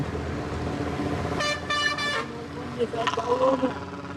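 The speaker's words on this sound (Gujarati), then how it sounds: "જો કેટલું ટ્રાફિક હતું" Busy highway traffic on a full-moon day, with vehicles rumbling past and a couple of sharp car horn toots in quick succession, then more horn blasts, while people talk over the road noise.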